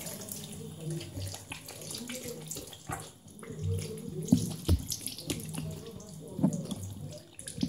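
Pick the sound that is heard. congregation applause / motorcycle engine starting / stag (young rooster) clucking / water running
water running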